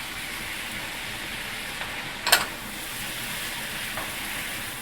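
Chopped onion and celery sizzling in a hot Dutch oven, a steady soft hiss of frying with a brief louder crackle as vegetables are added, close and alone.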